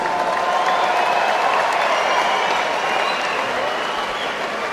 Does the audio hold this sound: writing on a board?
no